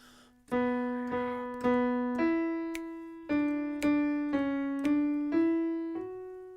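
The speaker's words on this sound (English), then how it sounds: "Okay, sounds like this, just on the piano." A solo piano plays a slow melody, single notes struck one after another with each ringing out and fading before the next.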